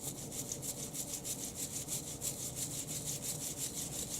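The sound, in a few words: scrubbing a dirty dog leash clean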